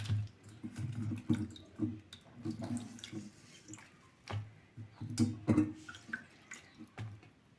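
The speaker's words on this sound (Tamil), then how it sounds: "அரிசி கலந்த தண்ணியில் கத்திரிக்காய் போட்டிருக்காங்க அதை பிழிஞ்சு எடுத்துடலாம்" Eggplant soaked in rice water is squeezed by hand, giving close, irregular bursts of dripping and splashing water with quiet gaps between.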